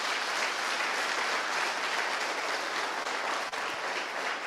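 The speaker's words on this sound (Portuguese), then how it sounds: "Vamos aplaudir o Senhor Jesus." Sustained applause from a church congregation during a worship service, steady and dense throughout, with no voices standing out above it.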